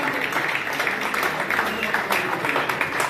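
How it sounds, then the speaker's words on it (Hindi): Sustained, loud clapping from a seated audience at the 27th Bharatiya Jain Milan regional convention in Rishikesh, a steady crackling wash with a voice faintly beneath it. "उनके लिए जोरदार तालियां पुनः एक बार"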